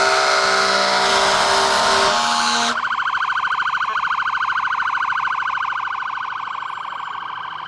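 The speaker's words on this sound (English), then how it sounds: "I want all fire engines, everybody to horns, sirens, everything." At a Fourth of July parade, fire engines blare horns and sirens all together. A dense, loud wall of horn tones cuts off sharply and gives way to a wailing siren chorus that slowly fades, with no talking.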